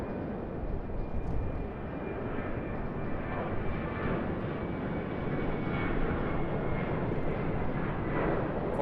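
An airliner roars at Sydney Airport, a steady broad engine rumble at moderate distance that holds throughout without letup.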